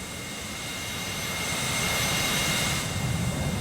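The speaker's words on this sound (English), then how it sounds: "at the airbase, we've got the B-52s taken off" A B-52 bomber takes off from an airbase in the naval combat game Sea Power, a steady broad jet engine roar that swells louder over a few seconds, with no talking.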